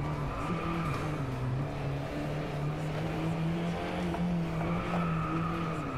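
An Alfa Romeo 4C in the Driveclub VR racing game holds a steady engine drone with pitch shifts as it revs and slides, tyre squeal faint, no talk.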